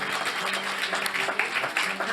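Audience applauding a choir, a dense, continuous wash of clapping that stays fairly even throughout, with faint voices mixed in.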